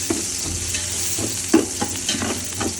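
Shallots frying and being stirred in ghee for uppumavu, a steady close sizzle broken by a few scraping stirs of the spoon against the pan, with no voices.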